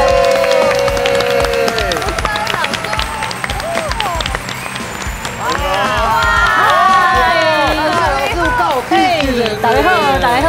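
A studio audience claps to welcome a guest onto a Taiwanese variety show, the applause running steadily under music and overlapping voices for the whole stretch.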